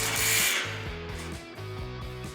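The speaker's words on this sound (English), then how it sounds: "use a 1/4 inch impact driver with the SAMMYS Speedy Clamp installation tool to automatically drive the patented screw and nut assembly to a controlled torque." A 1/4 inch impact driver drives a SAMMYS Speedy Clamp screw and nut assembly, a loud close whir followed by rapid rattling hammer impacts pulsing in quick bursts.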